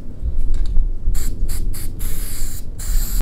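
Spray paint can hissing onto a shelf, with loud, close bursts of pressurised spray in short repeated pulses and then a longer sustained spray, over a low background rumble.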